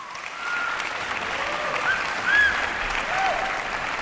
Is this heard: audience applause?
yes